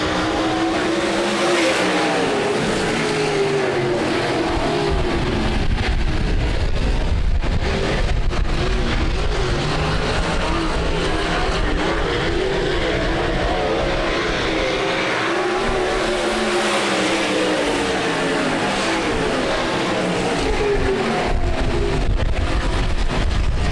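Race cars roar around a speedway oval at night as the field gets back to green after a caution. A dense, continuous engine drone rises and falls as cars pass, loud and unbroken with no talk over it.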